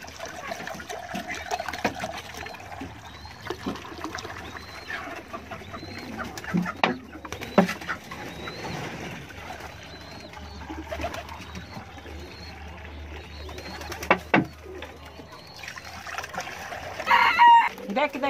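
Pigeons and young squabs gather at their water in a loft, with scattered cooing and soft calls, faint rustling and occasional clatter, and someone speaking now and then over the birds.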